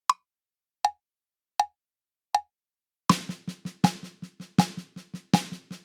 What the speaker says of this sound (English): So semi-quavers or 16th notes are going to sound like this.